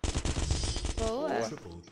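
A rapid burst of gunfire rattles for about a second, then a short tonal electronic sweep follows; game-like sound effects, no talk.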